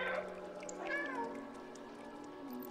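A cat meowing in the video game Stray, with a drawn-out meow and a shorter follow-up call, close and clear over a soft steady ambient hum.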